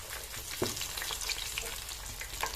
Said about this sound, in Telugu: పిండిలో ముంచుకుంటా నూనెలో వేసుకోవాలి